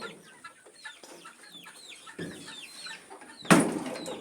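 Native desi chickens on a farm suffering in the heat give scattered clucks and chirpy calls, moderately close, with a louder burst of rustling noise near the end.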